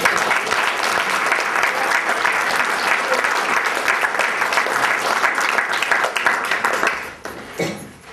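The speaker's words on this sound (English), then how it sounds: "joining me in a round of applause for the staff here" Wedding guests give the venue staff a loud, dense round of applause that holds steady for about seven seconds before thinning out and fading.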